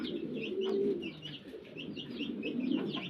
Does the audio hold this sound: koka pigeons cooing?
yes